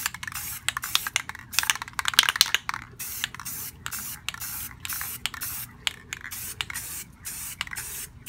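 Rust-Oleum Metallic Bright Gold spray paint comes out of the can in rapid short hissing bursts, each a quick stroke over an old wall planter, close and repeated in an uneven rhythm.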